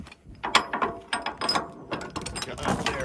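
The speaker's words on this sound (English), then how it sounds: "And then these chain binders, there we go." Ratchet chain binder being cranked tight on a chain securing an excavator for transport, a steady run of sharp metallic clicks and clacks close by, uneven in rhythm as the handle is worked, with no talk over it.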